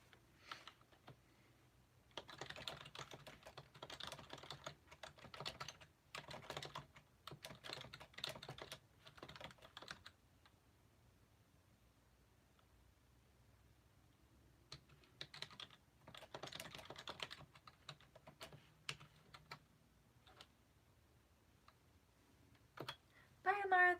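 Someone types on a computer keyboard during an online writing session, rapid close key clatter in two long bursts separated by a quieter pause, faint and steady.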